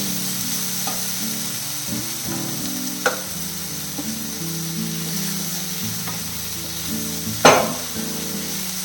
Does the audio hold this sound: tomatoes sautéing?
yes